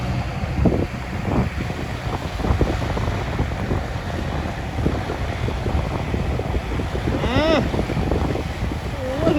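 A Kubota L4708 tractor that has been losing power after five to seven years of use revs its engine loudly, a steady heavy rumble mixed with wind buffeting while someone talks over it.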